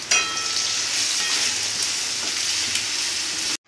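Loud, continuous sizzling as slit green chillies hit hot oil in a Bengali bhola fish and potato curry, a bright crackling hiss that holds steady before cutting off abruptly.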